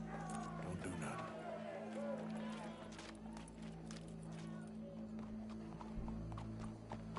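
Horse hooves clip-clop in a steady trotting rhythm in the Red Dead Redemption 2 video game, fairly quiet and blended with the game's background ambience.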